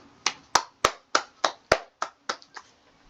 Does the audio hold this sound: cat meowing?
no